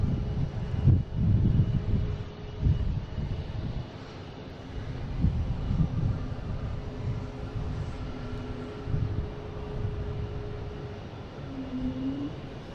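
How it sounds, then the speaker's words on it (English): JetBlue flight 818 from JFK comes in to land at Boston Logan, a distant low jet rumble that swells and fades steadily over the whole stretch, with faint wind and background hum. "We have a JetBlue flight 818 coming in from JFK."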